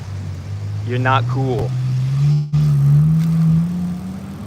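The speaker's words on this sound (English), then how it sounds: "you just went 10 miles an hour and you made that racket with your car" A loud car creeps past at about ten miles an hour, its low engine drone holding steady and rising slightly in pitch throughout, with someone briefly talking over it.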